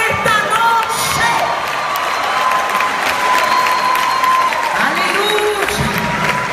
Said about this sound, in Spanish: ¡Dale un aplauso fuerte a Dios en esta noche!